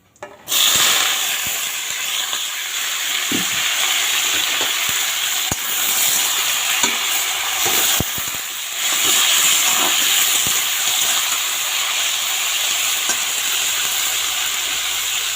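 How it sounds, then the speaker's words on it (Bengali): Chopped mixed vegetables poured into a hot pan for a broken-wheat khichdi burst into a loud, steady steaming sizzle that holds strong throughout, with a brief dip and swell midway and faint stirring clicks. "এখন এই সবজিগুলো এর মধ্যে ঢেলে দেব।"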